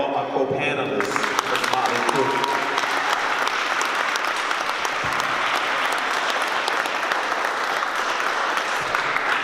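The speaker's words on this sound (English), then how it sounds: "And continue that round of applause for all my co-panelists." Sustained crowd applause for co-panelists at a gentrification panel discussion in Richmond, opening under a voice and then settling into a thick, even clapping for several seconds.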